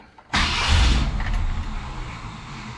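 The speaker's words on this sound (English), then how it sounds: "So yeah, so I just turned the key without touching the accelerator." A 1966 Ford Galaxie 500 V8, freshly given an oil change, starts with the key and no throttle: a short crank catches into a loud, close roar that settles into a steady idle.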